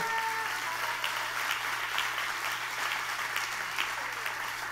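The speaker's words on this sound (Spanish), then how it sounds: "Dale un aplauso a Él." A church congregation applauds together in a sustained, even burst of clapping that fills the sanctuary, with a low steady hum beneath.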